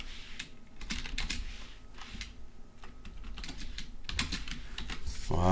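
C++ code is typed on a computer keyboard in a steady patter of close, distinct key clicks that speeds up and slows in bursts over several seconds, with a brief louder sound at the end.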